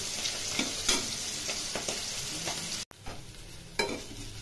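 Red amaranth leaves and eggplant stir-fry in a pan, giving a steady close sizzle broken by scraping stirring strokes and a brief cut-out midway; no one speaks.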